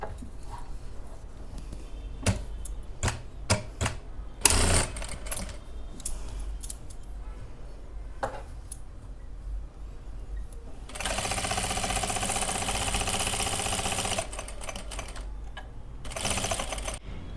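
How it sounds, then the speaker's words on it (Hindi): Sewing machine stitching a plazo pant in a home repair, rapid mechanical clatter in short bursts and one longer continuous run, close and moderately loud with no talk. "अब हम इसको उल्टा टर्न करके अब हम इस तरफ से सिलाई"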